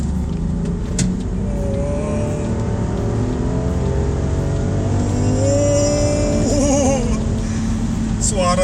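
Land Rover Defender 110 P400 engine revving on kick-down in S mode, a steady loud drone heard from the cabin that climbs in pitch toward the end.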